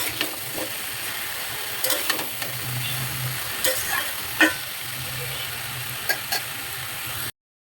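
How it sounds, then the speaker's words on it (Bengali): A spoon stirs boiled cabbage together with fried potatoes and fish heads in a pan, soft scraping and clicking strokes over a low sizzle, fairly quiet and close. "ভালোভাবে নেড়ে চেড়ে দিতে হবে যেন সব কিছু একসাথে মিশে যায়।"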